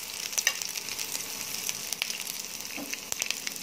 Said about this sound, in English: Make sure you don't overcrowd your wok or frying pan, because it can change the temperature.